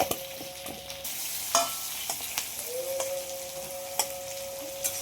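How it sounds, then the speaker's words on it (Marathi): Square-cut capsicum and onion, lightly salted, fry steadily in hot oil for a butter paneer masala, with a continuous close sizzle broken by a few sharp spatula scrapes and clinks. "जे आपण हे कांदा आणि सिमला मिरची घेतली असं स्क्वेअरमध्ये कट करून चौकणी शेकमध्ये तर ते पण आपल्याला आता छान आता तेलात फ्राय करून घ्यायचं"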